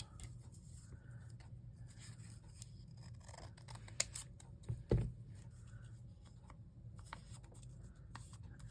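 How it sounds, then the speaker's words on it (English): Scissors snip paper while a belly band craft is being trimmed, with a brief crisp cutting sound standing out over soft steady background noise and quiet handling, no voices. "And then I guess we'll trim this off."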